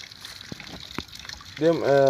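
Water drains out of an aquaponics grow-bed bucket in Kerala, a steady close trickle and gush. A brief tonal, voice-like sound rises near the end.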